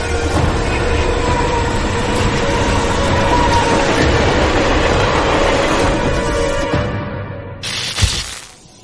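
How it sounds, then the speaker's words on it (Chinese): A train rumbles and rattles steadily as a sound effect in a radio drama, loud and close, then fades out with a brief sharp crash just before it ends, no voices. "火车"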